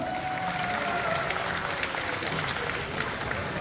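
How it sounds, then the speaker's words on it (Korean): Applause at a table tennis tournament prize ceremony: a crowd claps steadily and evenly at moderate distance, a continuous wash of hand claps with no talk over it. "자, 박수 한번 부탁드릴게요."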